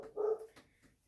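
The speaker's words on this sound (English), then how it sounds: "You hear Fizz down there barking." A dog barks once in a short, muffled bark from down below in a workshop room, followed by faint softer sounds, with no talking.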